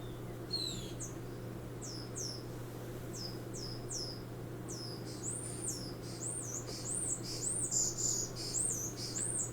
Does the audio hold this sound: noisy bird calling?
yes